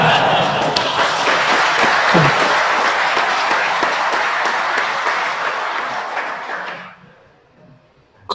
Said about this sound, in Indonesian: Kenapa jadi tepuk tangan begitu?